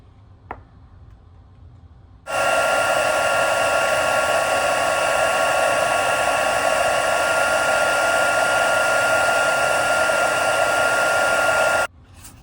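A heat gun blows steadily and loudly for about nine and a half seconds while embossing gold powder on stamped card stock, a continuous whooshing roar that starts abruptly and cuts off sharply, with a small click before it.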